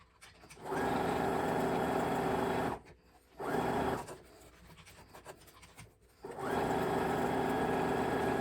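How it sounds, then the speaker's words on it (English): Fabric is stitched on a sewing machine in three close, steady bursts of fast whirring, separated by short pauses with faint handling sounds. "I've just finished sewing this"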